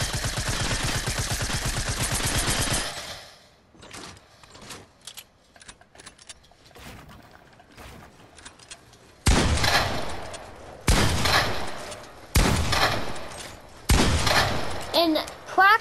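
Rapid bursts of video-game gunfire in Fortnite crackle in short volleys, a dense stream at the start and then several sharp clusters near the end, with someone speaking quietly between shots.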